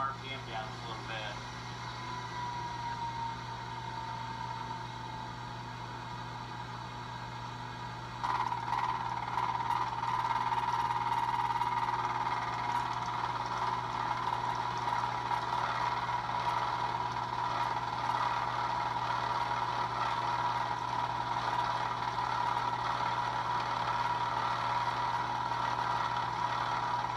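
A milling machine spindle hums steadily while cutting a part, a constant close whine that grows louder and denser partway through as the cut deepens; a voice speaks over it.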